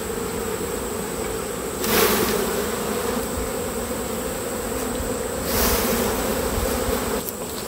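A honeybee colony in a nuc hive gives a steady, close buzzing hum, swelling in two brief louder bursts as bees fly past.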